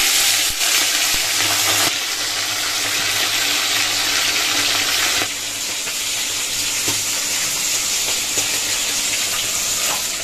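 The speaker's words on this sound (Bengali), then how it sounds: "তো চলো এখন তেলটা গরম হয়ে গেছে, মাছটা ভাজতে।" Fish fries in smoking-hot oil in a home kitchen, giving a loud, steady, hissing sizzle that runs unbroken for about ten seconds, with slight shifts in intensity and no voices.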